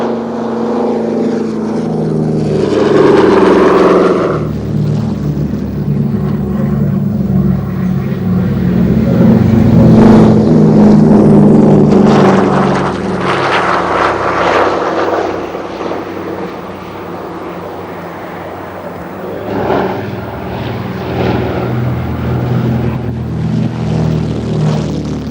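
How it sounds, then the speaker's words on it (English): Several Douglas DC3 Dakota twin-propeller aircraft taking off in stream at an RAF airshow, a loud sustained engine drone that swells and holds, rough and throbbing, with no voices over it. "No less than 7 DC3s showed the stream takeoffs"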